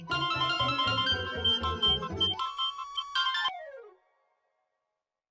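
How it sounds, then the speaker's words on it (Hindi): A mobile phone rings with an incoming call, a loud electronic ringtone melody over a pulsing beat that plays for about three and a half seconds, then cuts off abruptly and leaves silence. "आ गया तेरी नानी का फोन।"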